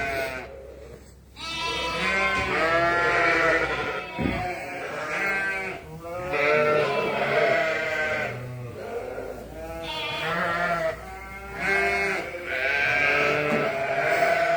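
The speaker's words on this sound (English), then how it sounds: "what you're about to see, I feel, is some very, very giddy little lambs" Giddy little lambs on a farm bleat again and again, overlapping wavering cries close by that fill the whole stretch with only brief pauses.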